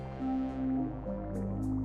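A water pump in the game Oxygen Not Included pumps fresh water, making soft, wet, dripping and squishing pulses over a steady hum of background game music.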